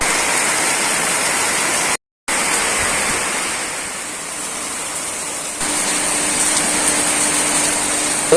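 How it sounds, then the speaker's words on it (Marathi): Heavy monsoon rain in the Konkan region of India pours down in a dense, steady roar that fills the whole clip, cut off by a brief gap of silence early on. "मी अनुभवलेला कोकणातील अत्यंत धुवादार पाऊस"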